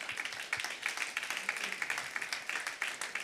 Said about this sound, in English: Could we just give them applause?